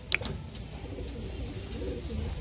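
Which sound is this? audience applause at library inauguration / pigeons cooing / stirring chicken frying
pigeons cooing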